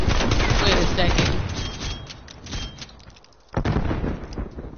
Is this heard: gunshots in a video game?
yes